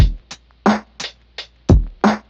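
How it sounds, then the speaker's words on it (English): A punchy Cymatics drum loop with sharp kicks and snappy hits spaced in a quick repeating pattern, loud and dry with nothing else playing. "After that lead, I threw in this drum loop from Cymatics."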